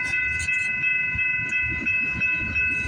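A LORAM rail grinder train moving along the line at Bronte passes close by with a steady low rumble and rolling wheel noise, overlaid by a sustained multi-tone whistle-like whine.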